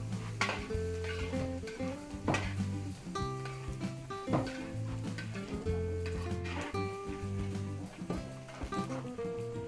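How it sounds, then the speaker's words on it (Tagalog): Pork spare ribs tumble into sautéed onion and garlic in a large cooking pot, giving clattering knocks and scraping with a sizzle underneath, all beneath ongoing background music. "Pagkaluto ng sibuyas bawang, pwede natin ihulog yung buto-buto, spare ribs, para matimplahan."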